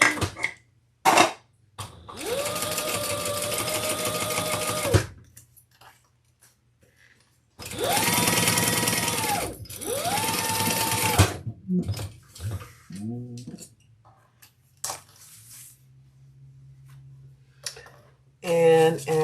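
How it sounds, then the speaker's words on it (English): A sewing machine bastes the lining of a leather handbag in two runs of a few seconds each, its motor whirring close. Short clicks and handling noises fall between the runs, with some talking. "We're going to baste those on."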